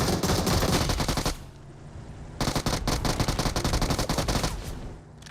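Video game automatic gunfire comes in two long, loud, rapid bursts of close shots, separated by a brief lull, then trails off near the end.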